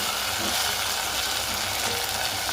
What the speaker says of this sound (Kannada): ಟೊಮೆಟೊ ಹಾಕ್ಕೊತಾ ಇದ್ದೀನಿ ಚೆನ್ನಾಗಿ ಬಾಡಿಸ್ಕೋಬೇಕು